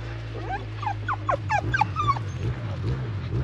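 A dog whimpers with a series of thin, high, rising whines and yips, close and moderately loud, over a steady low hum at a weekend 125 motocross event.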